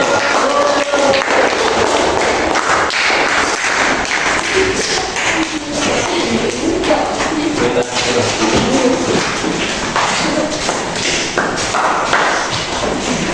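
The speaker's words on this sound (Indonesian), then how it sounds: "tepuk tangan untuk kelompok C" Classroom audience applauding a student group after its presentation, a dense, loud and steady wash of clapping that carries through the whole stretch, with thuds and scattered voices mixed in.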